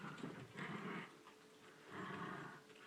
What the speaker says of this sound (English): A little teeny tiny terrier of Papa's is playing with our not so teeny tiny boxer pup